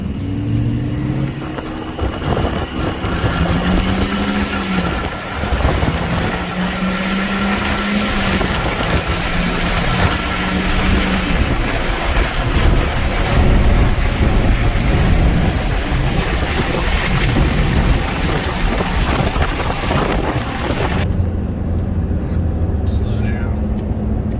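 A 6.7 diesel pickup truck revs and accelerates under about 5 pounds of boost, heard from inside as a loud, continuous engine drone with rising and falling pitch over road and wind roar.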